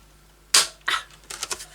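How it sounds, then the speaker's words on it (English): A stiff File of Facts six-ring hole punch bites through red card with a sharp clack, then a second softer crunch and a quick cluster of small clicks, close and without talk. "I'm going to actually use this with my punch just to work out where the holes are going to go."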